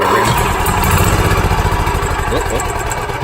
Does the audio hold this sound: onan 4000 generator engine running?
yes